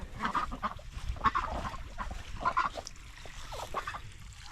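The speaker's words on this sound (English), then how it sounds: "it's like the ducks are playing in the mud, which they love" Ducks on a small Montana cattle farm quack in short bursts while playing in the mud at dusk, the calls fairly faint and scattered over a low background.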